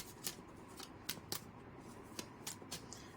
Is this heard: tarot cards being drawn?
yes